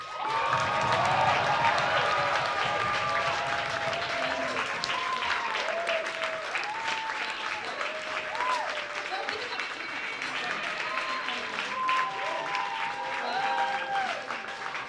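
An audience applauds a performer called up on stage at an evening show, with sustained clapping from a crowd and scattered cheers and voices rising over it throughout.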